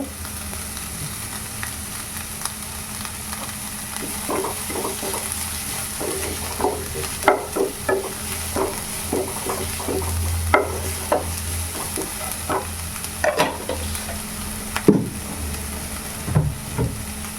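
Onions with salt sauté in a pan, a constant soft sizzle beneath repeated scraping stirs that tick along in irregular clusters, with a louder clack near the end.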